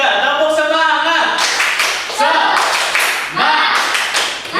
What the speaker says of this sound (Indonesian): Oke, biar gak ngantuk, yuk kita tepuk semangat.